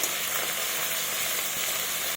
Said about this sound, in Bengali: এই দিকটাও আমি লাল লাল করে একটু ভেজে নেব।